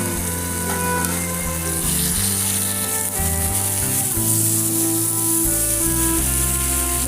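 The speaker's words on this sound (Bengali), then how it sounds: "কিছুক্ষণ ভাজবো কচুটাকে মশলা দিয়ে।" Boiled taro fries in spice masala with a loud, constant sizzle, while steady musical tones run underneath throughout.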